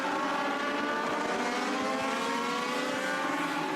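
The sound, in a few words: race cars on track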